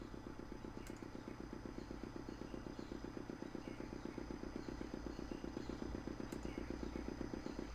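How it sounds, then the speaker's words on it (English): A small motor in the video game Broken Sword II runs in a steady, fast, chugging putter, fairly quiet and even, with a faint clack near the start and again near the end. "The motor spluttered into life."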